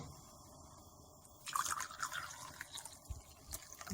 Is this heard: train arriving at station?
no